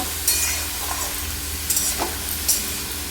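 Bottle gourd curry being stirred in a pan with cumin seeds, green chilli and bay leaf, sizzling steadily with a few scraping stirs of the spoon across about three seconds, close and alone.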